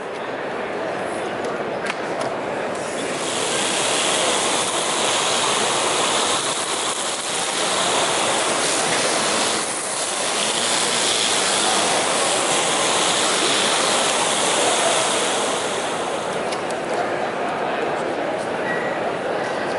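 A vacuum cleaner fitted with a Wessel-Werk floor nozzle roars continuously and loudly at close range as it sucks up debris, its rushing airflow swelling and easing slightly with each pass.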